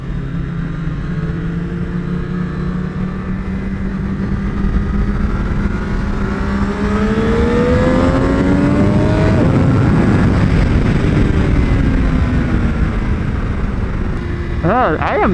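A Triumph Daytona 765 Moto2 motorcycle on a race track, its loud engine whining as it climbs through the revs and shifts gears, with wind roar throughout and a rider talking over it.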